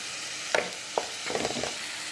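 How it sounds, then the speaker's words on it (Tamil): Onions and green chillies sauté on a medium flame under a steady close hiss of frying, with a few sharp ladle taps and a short burst of stirring scrapes. "இந்த வெங்காயம், பச்சை மிளகாலாம் பார்த்தீங்கன்னா பேஸ்ட்டு நல்லா வதக்கியாச்சு."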